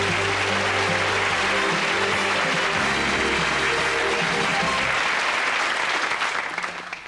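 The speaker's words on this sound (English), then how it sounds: "give them all a big round of applause" Studio audience applause on a 1989 British game show, a dense sustained burst of clapping that fills the room, with music running underneath early on, then tapering off toward the end.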